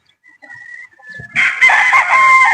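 A broodstag gamefowl rooster crows once, loud and close, with a faint bird call drifting in just before it.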